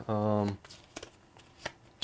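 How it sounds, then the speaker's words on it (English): A deck of cards is shuffled during a streamed tabletop card game. A voice speaks briefly at the start, then scattered crisp riffling bursts follow at close range. "Since I did the first shuffle, would you like to shuffle"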